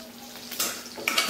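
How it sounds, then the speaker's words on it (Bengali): Garlic, black cumin and green chili fry in oil in a pan, a steady sizzle broken by two louder bursts of hiss and clinks of a utensil against the pan. "রসুন কালো জিরে আর লঙ্কাটা ভাজা ভাজা করে দিয়েছি"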